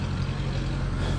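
Old Moline tractor engine running steadily after starting, a dense, even low rumble up close with no pauses.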